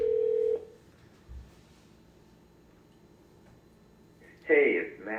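A short flat telephone tone sounds at the start, then near silence with a faint blip, before a voice begins speaking near the end.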